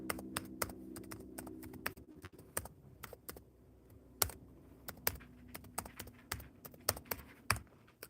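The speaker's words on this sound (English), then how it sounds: "We type in hello." Rapid, uneven keystrokes clatter on a computer keyboard in a quiet room, with a low steady hum underneath during the first couple of seconds.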